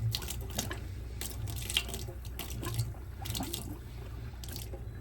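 A faucet on a Marine Trader boat runs while antifreeze is flushed through the water system during winterizing, a quiet steady water flow with soft sputtering bursts and irregular surges.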